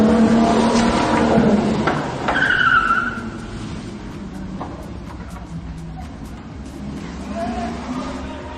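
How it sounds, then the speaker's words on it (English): Car crash with tires skidding, a loud screech and rough road noise up close, followed by a quieter stretch of low rumble with faint voices. "I'm not too sure if this crash is real or they are doing it for a movie."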